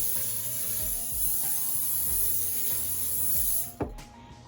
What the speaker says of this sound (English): I just use some olive oil spray. We're just gonna spray that